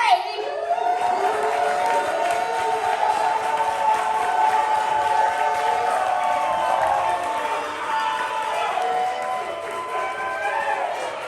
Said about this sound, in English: keep that applause going for your next part on the mic, y'all